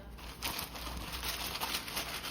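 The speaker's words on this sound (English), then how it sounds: "I have these letters in this bag, so I'm going to" Letters rustle and crinkle as they are shuffled inside a bag during a tarot card reading, a close, continuous papery scuffling lasting a couple of seconds with no talk.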